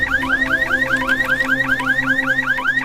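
A hospital ward's emergency alarm rings out as a loud, steady series of rising electronic whoops, repeating rapidly and evenly with no pause and no voices.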